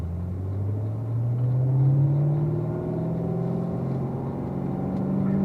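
A Corvette race car pulls out of pit road in third gear, its engine a loud, close, continuous rumble rising steadily in pitch as it accelerates, with no voices.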